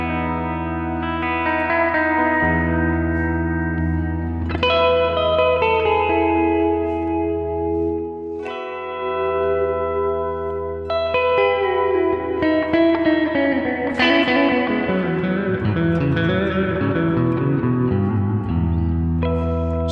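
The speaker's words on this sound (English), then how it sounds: "So let's add a hall reverb, and you can tell the little lights sort of give you how much." Electric guitar played through a Line 6 Pod Express with heavy hall reverb, plucked notes and chords ringing out with long, washy tails that blend together, loud and alone without talk.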